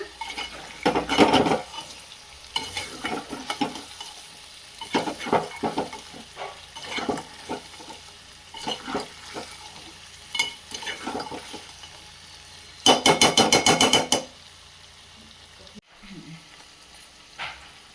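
Moringa drumsticks stirred with garam masala in an oily frying pan for a Saoji-style dish: intermittent spoon-on-pan clanks and scrapes over a low sizzle, with a loud rapid clatter burst near the end.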